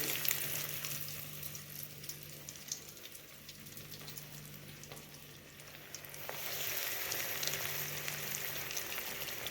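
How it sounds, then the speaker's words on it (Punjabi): Bread cutlets sizzle in hot oil in a pan, a continuous crackling hiss with a steady hum beneath, swelling slightly louder toward the end. "ਆਪਾਂ ਸਾਰੇ ਕਟਲਟ ਇਹਦੇ ਵਿੱਚ ਪਾ ਕੇ ਫਰਾਈ ਕਰ ਲਾਂਗੇ"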